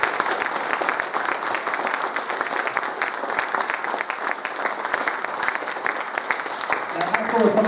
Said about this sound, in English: Mark, please give our special guests a round of applause